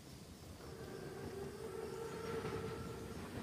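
A heavily armored WW2 train rolls by in a video game, a steady low rumble with faint tonal squeal, moderately distant and continuous, no voices.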